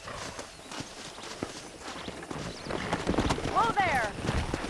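Hooves clip-clop from horses in the Western video game Red Dead Redemption, an uneven walking patter under other game sounds. A whistle-like call and voices rise toward the end.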